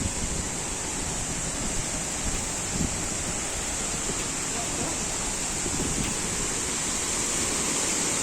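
A waterfall in France roars as a loud, steady rush of falling water with no pauses, close by and filling the scene.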